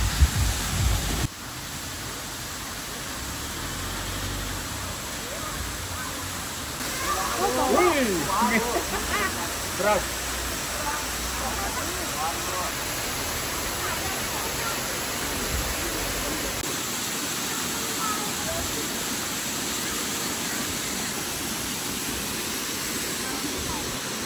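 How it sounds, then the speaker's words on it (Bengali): Rimbi waterfall near Pelling in West Sikkim roars as a steady, dense rush of falling water close by, unbroken for the whole stretch, with brief handling bumps partway through. "সামনেই রিমবির ওয়াটারফলস আপনাদের দেখায়, অপূর্ব"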